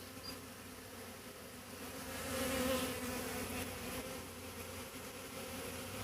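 A swarm of honeybees gives off a dense, continuous buzzing hum that swells slightly midway and fills the air evenly, with no talking over it.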